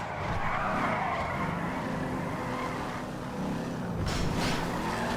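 Phoenix car in GTA Online, its engine droning steadily under a long screeching tire skid, loud and sustained, with a sharper burst near the end.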